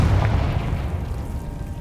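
In Hogwarts Legacy, a Confringo spell blast lands as a heavy, close boom with a deep rumble that fades slowly over two seconds.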